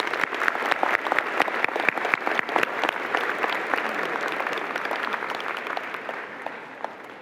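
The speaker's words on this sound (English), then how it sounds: "Let's give them a round of applause." An audience at a university convocation ceremony for the Faculty of Education and Faculty of Management applauds, with dense continuous clapping that holds steady and tapers slightly.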